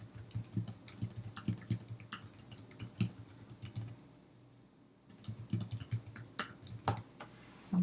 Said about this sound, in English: So I'm just going to type in some of my information.